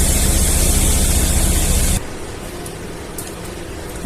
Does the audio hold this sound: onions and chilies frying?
yes